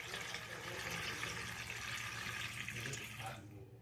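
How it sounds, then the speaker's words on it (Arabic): Water is poured from a container into a jar of cucumbers with vinegar and spices for pickling, a steady close splashing gush that runs for a few seconds and then cuts off. "هضيف المية، اول لتر مية"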